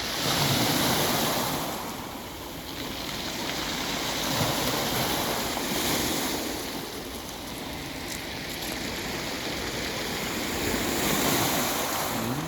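Rough evening sea surf at Tuapse crashes and rolls continuously, with wind buffeting the microphone and waves surging in broad swells.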